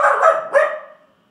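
A dog barks twice in quick succession, sharp and close, then falls silent.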